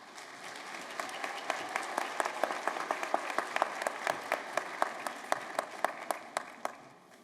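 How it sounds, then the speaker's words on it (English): Audience applauding at a college commencement, many hands clapping steadily at a moderate distance without voices. "Can we just have one more round of applause?"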